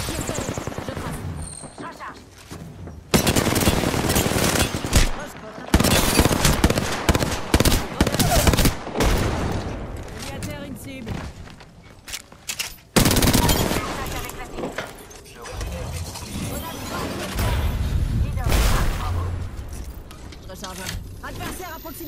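Gunfire in the video game Apex Legends, loud rapid bursts and sustained volleys recurring throughout, mixed with game voice callouts and other in-game action.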